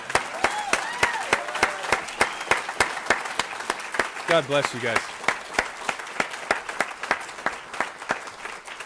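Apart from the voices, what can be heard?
audience applause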